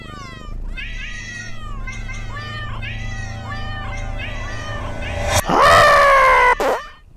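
A domestic cat meows repeatedly at close range, with a run of drawn-out cries, and then gives one loud, harsh yowl near the end.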